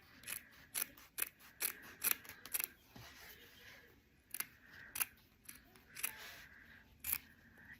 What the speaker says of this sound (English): I'll just cut on this line with my little snippy scissors